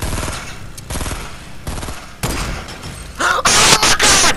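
Sniper rifle fire in Fortnite: several sharp, loud shots in quick succession followed by a dense, roaring burst of gunfire and impact noise close up.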